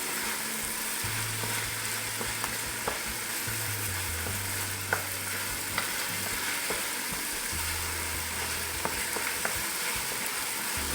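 Anchovies frying in lasagna sauce, a steady bright sizzle and crackle with occasional stirring scrapes and a low background hum, close and continuous.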